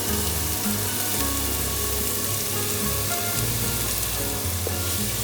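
Tomatoes hit a pan of sizzling onions and ginger-garlic paste while cooking veg biryani, with a steady dense sizzle and crackle that is close and continuous and carries no talk.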